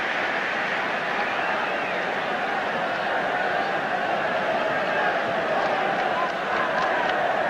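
A packed stadium football crowd at a 1990 Scottish Cup tie between Aberdeen and Celtic, applauding a header from a big centre half; steady broad crowd roar and clapping fills the clip, loud and continuous.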